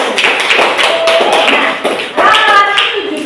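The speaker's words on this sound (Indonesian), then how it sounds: "Oke, tepuk tangan untuk Anda." An audience applauds, a quick run of dense, close hand claps lasting a few seconds, with a brief dip before the clapping picks up again.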